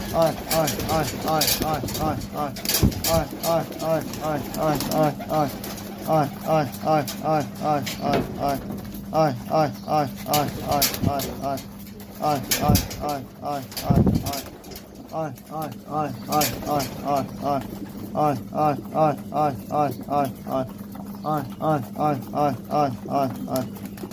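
Racing pigeons cooing repeatedly during trapping, rhythmic overlapping coos from several birds close by, with a voice calling to them over the birds.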